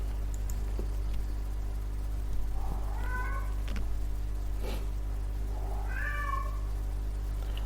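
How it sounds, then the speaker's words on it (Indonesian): Cats yowl and meow in a squabble behind a steady electrical hum, two drawn-out wailing calls with scattered clicks between, fairly faint and off in the background. "Ini ada kucing lagi ribut tanggal tua."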